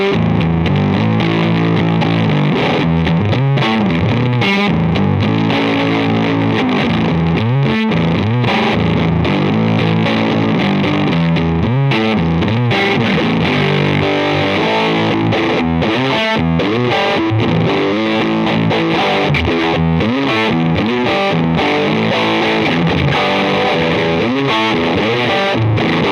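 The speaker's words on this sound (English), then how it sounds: "nasty, muffy kind of fuzz sound, this will obviously do that" A fuzz pedal on a Strat electric guitar through a Dr. Z Carmen Ghia amp gives thick, muffled, saturated fuzz as chords and riffs ring out continuously and loudly, with no talking.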